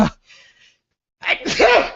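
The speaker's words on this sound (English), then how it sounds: "that sneeze gave me the vapors" A person's loud, close sneeze bursts out after a brief quiet inhale, with a short breath at the start.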